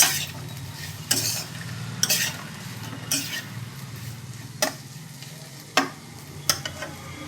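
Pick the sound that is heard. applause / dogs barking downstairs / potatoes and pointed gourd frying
potatoes and pointed gourd frying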